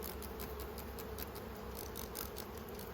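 Honeybees buzz steadily around an opened backyard beehive during frame inspection, a continuous close, even drone with no voices.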